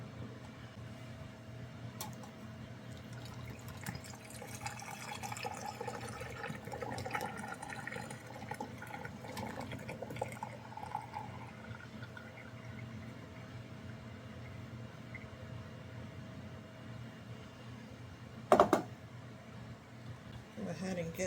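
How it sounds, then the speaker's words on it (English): Warm vanilla syrup pours steadily through a funnel and strainer into a heated glass jar, a soft liquid trickle running under nearby talking, with a sharp clink near the end. "I'm going to use this funnel with this strainer to catch those beans"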